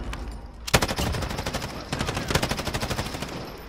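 Loud rapid automatic gunfire in the video game Call of Duty Warzone, two sustained bursts of tightly spaced shots with a brief pause between them and no talk over them.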